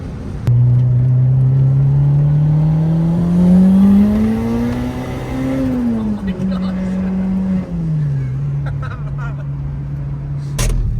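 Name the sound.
Honda Integra running with Spoon N1 exhaust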